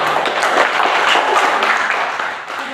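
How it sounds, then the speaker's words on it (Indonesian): Classmates clap for a student after a group presentation in a classroom, a busy, continuous burst of many hands that stays strong and tapers slightly at the end. "tepuk tangan untuk adik kita"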